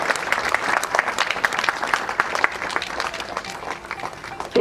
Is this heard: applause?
yes